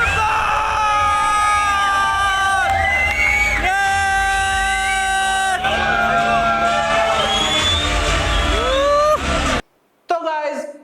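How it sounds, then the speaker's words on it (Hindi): A theater audience at a Gadar 2 screening shouts and cheers through a film entry scene, the loud crowd din mixed with blaring soundtrack tones and voices for about nine seconds before a sudden drop. "देखा आपने कितनी ऑडियंस चिल्ला रही थी।"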